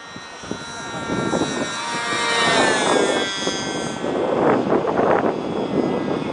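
A tuned model airplane engine buzzes loudly at a high pitch, rising and falling slightly as it revs, with faint noise underneath.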